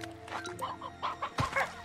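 Hens clucking in the video game Slime Rancher 2, a string of short, fairly close clucks and chatter with no talk over them.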